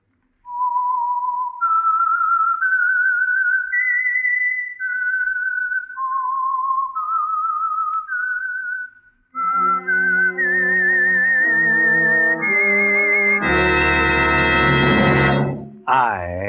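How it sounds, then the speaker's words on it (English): A rising and falling whistled melody, clear and close, the theme signal of the 1949 old-time radio program The Whistler, ending in a short burst of orchestral music. "the signal to listen for is this whistle that identifies the Signal Oil program"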